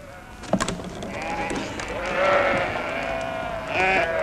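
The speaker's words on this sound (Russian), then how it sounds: "Выпускайте овец." Sheep bleat loudly in a mountain setting, several overlapping drawn-out calls from a flock close by, with a short sharp knock early on and a busy outdoor background.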